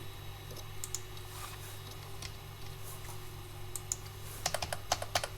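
Quiet computer keyboard typing in LibreOffice Writer, scattered soft key clicks that build into a quick burst of taps near the end against a low steady hum.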